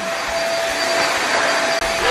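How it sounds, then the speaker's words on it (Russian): A vacuum cleaner runs in a sewing atelier in France, a steady loud whirring drone that cuts out for a split second before picking up again. "Нашли пылесос в моем ателье, и теперь еще и пылесосят."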